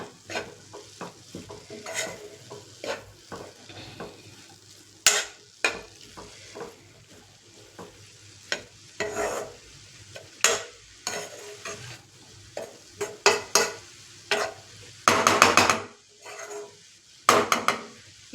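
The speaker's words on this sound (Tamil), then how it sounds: "அப்படி கிளறி விட்டுக்கிட்டே இருக்கணும்" Food frying in a pan while a spoon stirs it, with intermittent scraping and clinking of utensil against metal over a soft background sizzle, bursts of louder stirring separated by quieter pauses.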